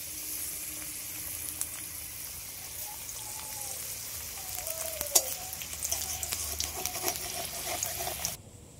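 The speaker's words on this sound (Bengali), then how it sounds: "এইবার আমি এগুলো সব তেলে ভেজে নেব।" Patishapta pitha frying in hot white oil in a wok, a steady soft sizzle with scattered crackles and pops that grow busier toward the end before cutting off.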